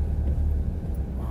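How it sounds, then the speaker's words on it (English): A garbage truck idles outside, its engine giving a steady low rumble that holds level without pauses. "Bin truck's about to empty, I think, or it's stuck, one of the two."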